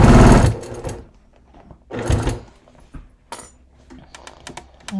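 A sewing machine stitches a leather bucket bag base in short bursts, the first loud and near, the rest fainter, with quiet clicks and pauses between runs.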